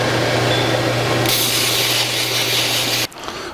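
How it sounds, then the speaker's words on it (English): A power tool grinds the end of a steel pipe to square and bevel it for a custom drag link on a 1949 Chevrolet gasser, a steady close whine that shifts in tone partway, then cuts off abruptly. "We'll square up the end. We'll bevel the outside edge so that it's not sharp."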